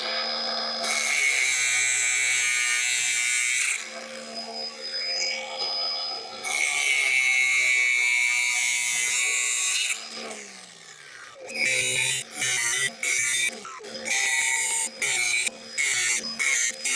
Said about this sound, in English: So I'm going to use my cutoff wheel to cut it